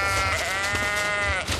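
Sheep that fell from a transport truck onto the road bleat in one loud, close, sustained wavering cry that fills the moment.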